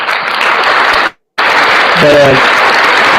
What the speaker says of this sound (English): I give you some applause.